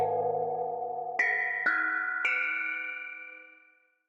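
A low sustained bell tone is followed by three quick metallic strikes at rising, clashing pitches, ringing together before fading out.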